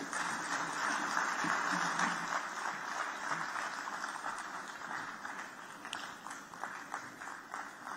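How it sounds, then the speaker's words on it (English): Steady applause from a large audience at an investment event closing ceremony in Lagos, heard at a distance, continuous clapping that slowly tapers off without fading out completely. "Another round of applause"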